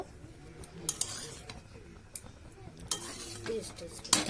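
Fried rice being stirred and mixed in a pan over a low flame, with intermittent scraping and clinking of a spoon against the metal, quiet and close, plus a few sharper knocks.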